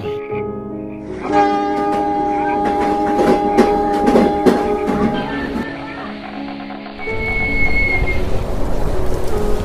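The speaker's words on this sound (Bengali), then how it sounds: "প্ল্যাটফর্মে ট্রেনও ঢুকে গেল।" Cartoon-style train pulling into a quiet station platform, rumbling with rhythmic clickety-clack and tonal horn-like hums that shift midway, then a steady hiss like rain building near the end.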